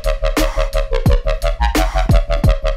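An electronic drum beat plays with punchy kicks, snappy snares and crisp hi-hats echoed by a delay effect, giving a swung, bouncing rhythm. The loop is loud and up front with no voices.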